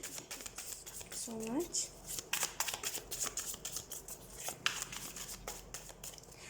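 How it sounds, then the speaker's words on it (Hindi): Tarot cards being shuffled by hand, a quick run of papery riffling and soft flicks, close and moderate in level, with a brief spoken voice partway through. "तो सबसे पहले हम कार्ड शफल कर लेते हैं।"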